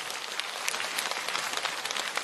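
An audience claps steadily at a talk. The applause is a dense, even crackle of many hands, fairly distant and continuous, with no voices over it.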